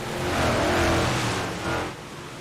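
A big block modified race car roars around the dirt oval at Fairbury Speedway, the loud engine swelling as it nears and then easing off into the distance, with no talk over it.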